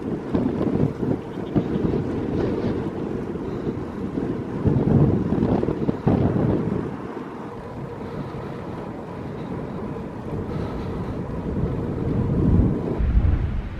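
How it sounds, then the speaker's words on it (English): Strong, steady wind buffets the microphone while cycling on a hot Arctic Circle bike tour in Sweden, a constant low roaring rumble with gusts swelling throughout and no voices. "The wind is killing me."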